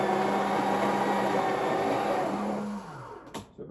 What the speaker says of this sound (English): So about 5 seconds of grinding and then get rid of that.